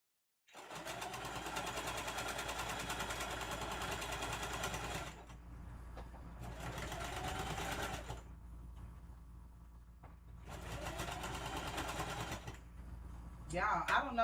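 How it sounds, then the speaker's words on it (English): A home sewing machine runs in three long bursts with short pauses between, stitching steadily but giving off an odd, uneven mechanical noise, close and fairly loud, with someone talking over it. "I don't know why my sewing machine is doing this."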